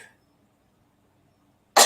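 Near silence, then a single sharp cough bursts out close to the microphone right at the end.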